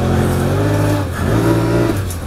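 A Honda Pioneer 1000 side-by-side with a dual clutch transmission accelerates steadily, its engine droning loud and close with rising, smooth revs and no audible shift breaks.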